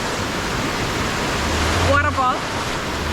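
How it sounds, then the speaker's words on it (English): A waterfall beside the ocean in Ocho Rios, Jamaica, producing a loud, steady rushing roar of falling water, with a brief voice breaking through near the middle. "Ocean, waterfall."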